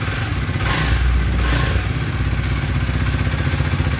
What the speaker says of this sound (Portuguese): E um pouquinho do ronco dela, não vou acelerar muito por causa que ela tá fria